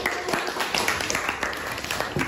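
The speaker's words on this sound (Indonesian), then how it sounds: "beri tepuk tangan untuk kelompok 1." A fifth-grade elementary school class claps for a student group after its presentation, with dense, steady applause from many hands filling the room, loud and continuous.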